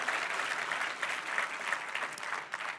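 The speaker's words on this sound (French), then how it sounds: "Est-ce qu'on peut encore une fois leur donner une main d'applaudissement" A church congregation applauds together during a Sunday service, a continuous wash of many hands clapping at an even level for a few seconds with no voices over it.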